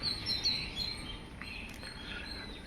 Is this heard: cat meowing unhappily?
no